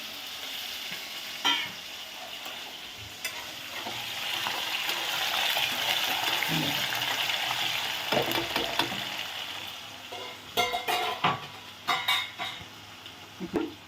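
Two peeled, washed potatoes fry in a pan for a curry, giving a steady, close sizzle with occasional clinks and scrapes of a spoon against the pan, and no talking.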